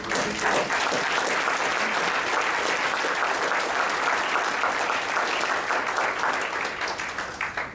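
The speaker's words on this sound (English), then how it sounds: "And so I applaud you." Audience applauding at a speech event, a dense, steady wash of clapping that fills the whole stretch, loud and sustained before easing slightly at the end, with no talking over it.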